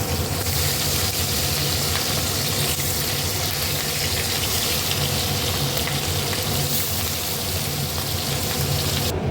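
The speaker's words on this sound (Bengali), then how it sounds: "গরম হয়ে গেছে, আমি এবার মাছগুলো ভেজে নেব।" Roe-filled fish frying in hot oil in a pan, a continuous loud sizzle and crackle held steady throughout.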